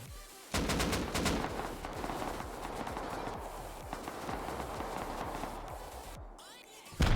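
Heavy covering gunfire in Rust during a raid: rapid automatic bursts and overlapping shots crackle continuously at mid distance, a dense fusillade that thins briefly near the end before another loud shot.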